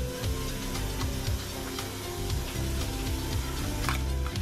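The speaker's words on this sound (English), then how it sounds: "you want to stir your cheese" Cheese being stirred into macaroni in a pan, a steady close scraping and rubbing with soft ticking knocks of the spoon against the pan, repeating in an uneven rhythm.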